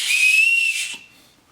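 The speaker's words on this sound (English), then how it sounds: "This has a whistle." A SOL survival kit whistle gives one shrill, steady blast up close, lasting under a second before it cuts off and leaves faint room noise.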